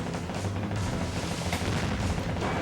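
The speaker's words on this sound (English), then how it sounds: "When you put 400mm cannons on your boat, they do this." Heavy 400mm naval cannons on a warship firing in the video game Naval Ops: Warship Gunner 2, producing a dense, loud, continuous wash of rumbling booms and blasts with no break and no talk.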